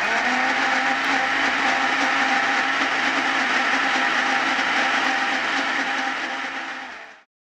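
A kitchen blender runs at high speed mincing garlic, a loud steady whirring drone for about seven seconds that winds down at the end, with no talking.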